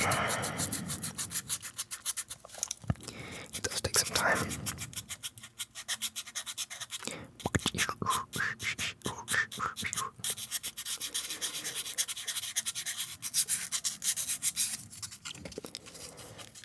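Steady sandpaper rubbing back and forth against wood, a continuous gritty scraping with brief pauses, while a person speaks quietly over it.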